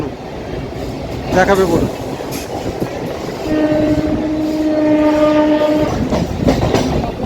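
Kolkata Chakra Rail circular train rumbling along beside the Ganges, with a sustained horn blast in the middle and steady wheel clatter throughout, while someone speaks briefly over it.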